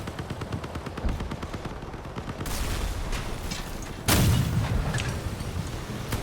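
Weapon fire in the vehicle combat game Crossout: dense, continuous rapid shots and booming cannon blasts, with a heavy impact near the middle, loud and unbroken throughout.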